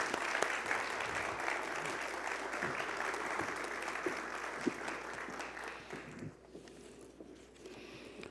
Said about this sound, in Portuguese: Salva de palmas para o Hélio.